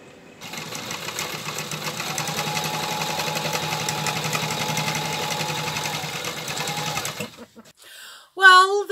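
A sewing machine stitches canvas for a yacht cockpit cover, a loud steady whirring rattle running for about seven seconds before stopping, followed by a brief voice.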